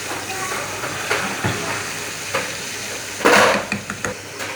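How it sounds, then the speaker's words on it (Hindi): Half a kilo of small boneless chicken pieces frying in a pan for homemade shawarma, giving a steady sizzling hiss with a few louder bursts of spatter and stirring. "जैसा कि आप देख रहे हैं चिकन फ्राई हो रहा है"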